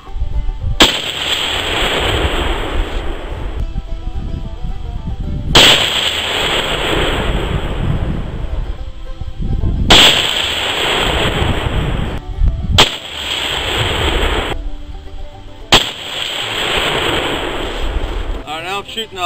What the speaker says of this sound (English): now I'm shooting a 223 AR with Sierra bullets, 60 grain hollow points